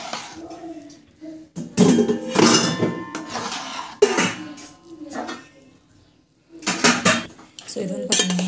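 A spoon scrapes and clanks against a metal pan while tamarind rice is stirred and mixed, coming in loud, close bursts of clatter separated by brief pauses.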